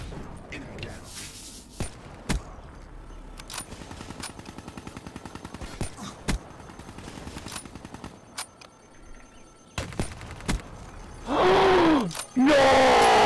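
Sharp single sniper rifle shots ring out at intervals in Black Ops 3 multiplayer, loud transient cracks scattered across the clip amid game noise, with a burst of louder action near the end and players talking over it.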